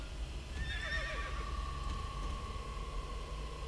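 A video game horse in Star Stable whinnies once in a wavering, high call, fading into a steady tone over a constant low rumble and noise.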